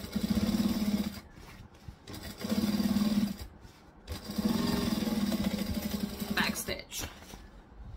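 A sewing machine stitches and backstitches a seam, running in three short, steady bursts separated by pauses, close and moderately loud, with faint handling noises between runs.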